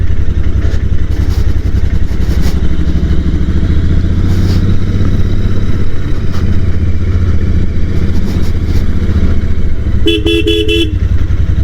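An Interceptor 650 motorcycle rides at about 20 km/h along a narrow, winding road. Its engine drones loud and steady throughout, and a short burst of horn honks sounds near the end.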